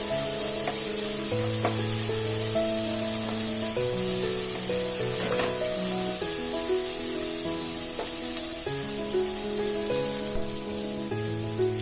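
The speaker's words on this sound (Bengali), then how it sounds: "লাল লঙ্কার গুঁড়ো আর হলুদটা আমি ভালোভাবে মশলার সাথে ভেজে নিচ্ছি।" Red chili powder and turmeric fry with spices in a pan for fish curry, a soft continuous sizzle and hiss running beneath louder steady background music for the whole stretch.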